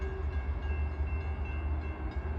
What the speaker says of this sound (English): The mainline hill at Wren is evident as the train crests at the crossing.